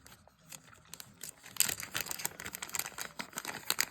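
Plastic packets of cheap Temu dice being torn open up close, heard as crinkling and crackling rustles that start faintly and grow busier, with small clicks of dice rattling inside.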